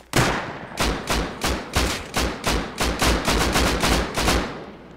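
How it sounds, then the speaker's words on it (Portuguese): Gunfire in the survival video game Rust: a rapid string of loud, sharp shots, about a dozen and a half in five seconds, speeding into a tight burst toward the end. "Dá tiro no Tete."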